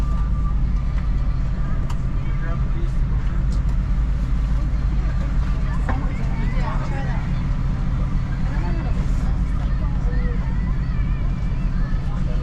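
A tour bus carrying passengers on a Saint Martin shore excursion drives along with a constant low engine and road rumble, while a guide and passengers talk over it.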